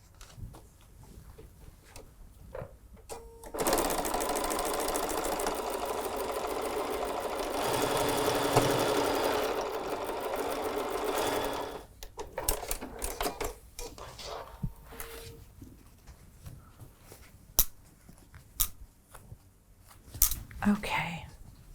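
A sewing machine stitching a quilted lattice table runner runs in one steady, fast burst of about eight seconds. Quieter fabric handling and soft, low voices follow.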